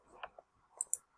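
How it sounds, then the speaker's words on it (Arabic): Faint computer mouse clicks during work in Adobe InDesign: a couple of soft ticks, then a quick double-click close to the microphone in an otherwise quiet room. "دوبل كليك"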